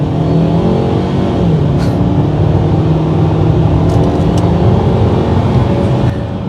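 A 2025 Ford Maverick Lobo pickup accelerates hard, its engine holding a steady, loud drone with rising harmonic bands that climb through the gears for several seconds, close to the microphone and with no voices.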